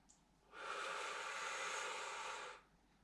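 A single long exhale of breath, about two seconds, breathy and broadband, during a home pilates exercise with a broomstick; steady and fairly close, with no talking over it.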